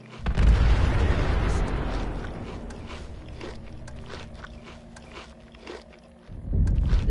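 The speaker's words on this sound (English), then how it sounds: "I'm detonating the bombs" Bombs detonating in Fallout 76 to seal tunnels: a loud opening boom followed by a long rumbling decay with scattered crackles and pops, then another heavy burst near the end.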